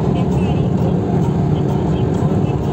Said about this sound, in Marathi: मस्त गाडी चालली आहे 60च्या स्पीडला